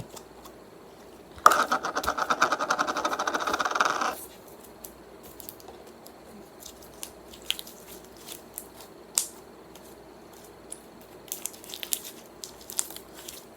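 Slime being pulled from its container and squished, a dense burst of wet crackling and popping for about three seconds, followed by faint scattered squelches and clicks with no talking.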